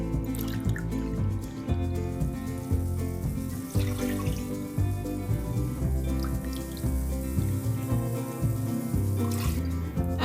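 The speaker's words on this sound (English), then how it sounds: "Then I'll add water and sugar to it." Water runs steadily into a pressure cooker pan on a hob, a continuous close pour and trickle for several seconds over background music.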